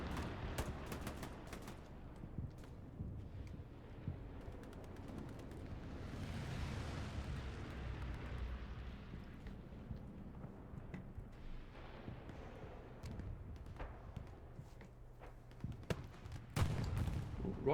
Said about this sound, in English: rockets are starting to go into that building right there